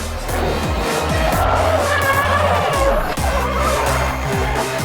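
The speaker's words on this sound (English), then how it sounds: "we've got another one into the wall. Big into the wall." Race car at Speedweek skidding with tires squealing and engines roaring, loud and continuous, with a sharp jolt near the three-second mark that fits an impact with a wall.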